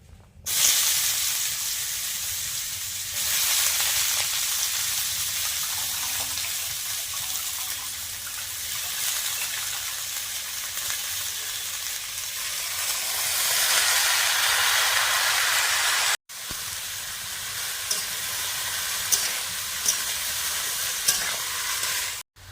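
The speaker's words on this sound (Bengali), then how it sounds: "কড়াতে কিছুটা সরষার তেল দিয়ে দিচ্ছি এবারে চাল কুমড়োগুলো দিয়ে দিচ্ছি" Chopped ash gourd sizzling in hot mustard oil in a wok, a loud continuous crackling hiss close up that carries on with little change, then cuts out briefly near the end before resuming.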